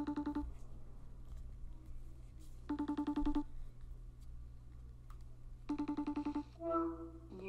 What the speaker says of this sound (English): FaceTime ringtone